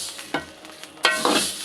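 Meat masala powder and spices frying in a pan for Jaffna-style payatham paniyaram, giving two or three short bursts of sizzling and stirring with quiet gaps between them, with no talk.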